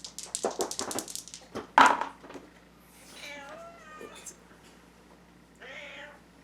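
A house cat meows several times in drawn-out, wavering calls after loud nearby knocks and bumps, with people talking at a distance.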